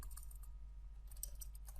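Quick, light keystrokes tap on a computer keyboard in short irregular bursts, faint over a low steady hum, with no talking.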